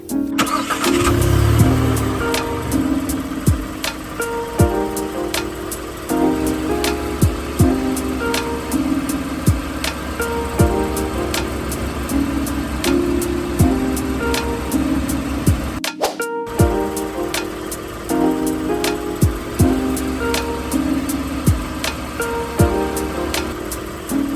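A car engine cranks and catches, then runs with a steady mid-pitched hum and occasional revs as the car drives off, loud and close throughout, with no talking.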